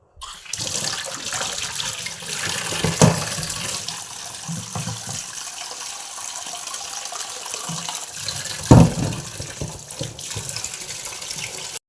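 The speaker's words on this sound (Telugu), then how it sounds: "చేపలను ఇలా కడుక్కోవాలి శుభ్రంగా నీట్గా కడిగేసాను" Fish for a fry rinsed under running water, a close steady tap stream with occasional splashes and knocks as the fish are handled.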